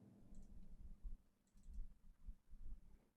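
Computer mouse clicks while opening an Excel file in Stata, several soft, close clicks spread irregularly over a few seconds against low room noise.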